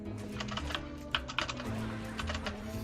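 Keyboard keys and a computer mouse clicking in a quick irregular clatter of close taps during a game development stream, over a steady low hum of game music or background sound.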